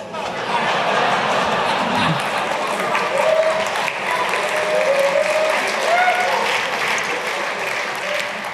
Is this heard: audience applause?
yes